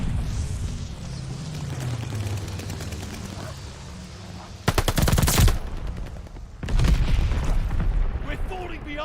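Enemy automatic gunfire in Call of Duty Vanguard multiplayer, loud close bursts of rapid shots after a stretch of quieter battlefield rumble, with a second long burst following a short pause.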